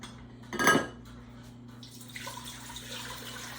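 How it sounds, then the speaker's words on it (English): Water from a jar pours into a cooking pot for chicken and dumplings, a brief clanking knock at first, then a soft, steady splashing trickle that runs on quietly in the kitchen. "I'm going to add some water"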